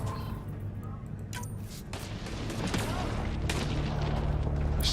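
Enemy gunfire in the Mass Effect video game, a dense, steady stream of shots and booms that grows louder partway through, with faint voices underneath.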